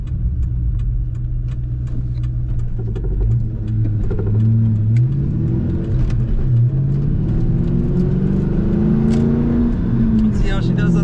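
A 2001 Ford Mustang SVT Cobra convertible with a five-speed manual accelerates on a highway, its engine rumbling and rising steadily in pitch, while someone talks over it.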